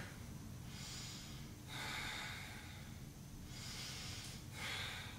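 Heavy exercise breaths during a Pilates-yoga workout, two long airy exhalations about three seconds apart over a steady low background hum, close and fairly loud.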